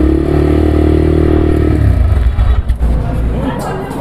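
A TVS Raider 125 cc motorcycle engine runs loud and close, a steady low throbbing idle that shifts and settles partway through, with some clatter.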